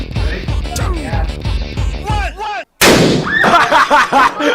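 A rocket bottle firework goes off in a loud, sharp bang after a short silence, following rapid repeated popping blasts, close by and outdoors.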